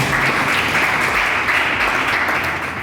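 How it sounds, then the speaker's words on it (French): Loud, sustained applause from an audience at an international women's conference in a hall, dense clapping continuing steadily throughout without a break. "S'il vous plaît, applaudissez,"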